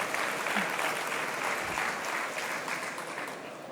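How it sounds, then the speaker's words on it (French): Steady conference audience applause fills the whole stretch, dense and even, many hands clapping together before it slowly eases off. "il est un peu exigeant au niveau des applaudissements, donc si vous pourriez le refaire"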